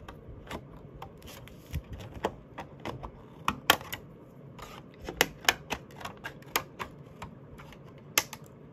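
Scissors snip through thin paper or card while making a spring shaker card, a quiet, close series of sharp crisp clicks and cuts in an irregular rhythm, without voices.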